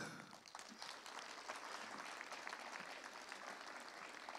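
Audience at a PHP developer conference in Bulgaria claps for the women in the room, a steady, even wash of applause from many people filling the hall without speech.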